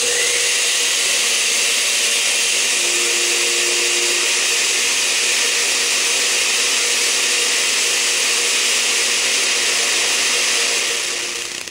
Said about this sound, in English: Turn the blender on and then begin to add your oil in a fine stream.